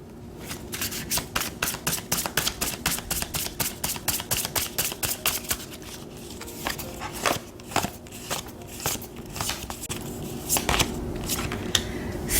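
Tarot cards being shuffled up close, a quick regular run of riffling snaps for several seconds, then slower, scattered card slaps and flicks.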